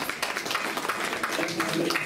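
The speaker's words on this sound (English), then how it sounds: "Big round of applause for Naresh" A gathered audience at a Sunday evening program gives a short burst of applause for a named participant, with clustered hand claps mixed with murmuring voices.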